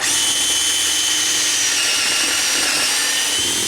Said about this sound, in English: we're gonna take our drill and make a hole right here.